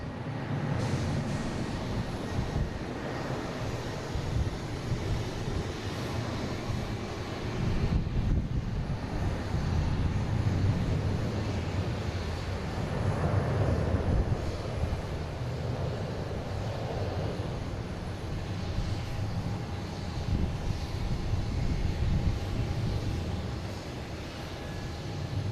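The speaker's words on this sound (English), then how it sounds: "Flight 132 and A330-300" An Airbus A330-300 jet at Boston Logan airport produces a distant, steady broadband roar mixed with wind buffeting on the microphone, swelling slightly midway, with no voices.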